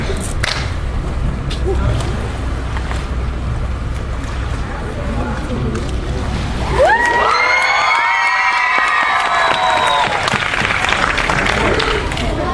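A crowd at Port Elizabeth Bayworld cheers, shouts and claps loudly for Lucky the seal, with children's voices rising above the steady roar and splashing thuds nearby.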